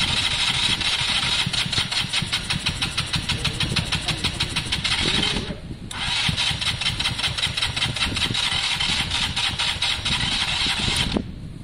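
A KSR motorcycle engine cranks and sputters close by, turning over with rapid mechanical chatter that nearly catches, stops briefly, then resumes cranking and ends abruptly.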